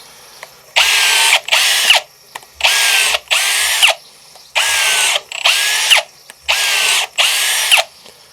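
An AEG BSB18BL cordless drill whirs in eight short, loud bursts, mostly in quick pairs with brief silent gaps between them.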